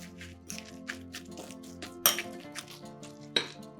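Metal utensils clink and scrape against a bowl while stirring in sugar, in a steady rhythm, with a couple of sharper clinks standing out, close and moderately loud.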